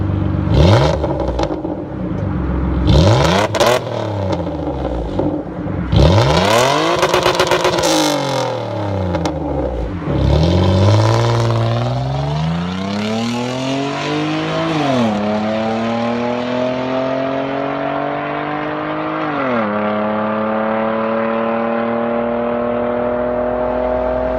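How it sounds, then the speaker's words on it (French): A Jaguar X-Type 3.0-litre V6, an engine derived from the Aston Martin DB7 V12, revs loudly and repeatedly close by, with sharp rises and falls followed by sustained climbing pulls through the gears and no talking. "Et je trouve magnifique ce son moteur qui est ahurissant."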